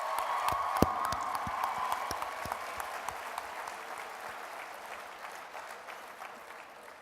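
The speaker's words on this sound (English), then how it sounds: "let's give them one more round of applause" An audience at the SXSW Gaming Awards gives applause for the game The Order: 1886, a full round of clapping with a few sharp nearby claps that slowly thins and fades toward the end.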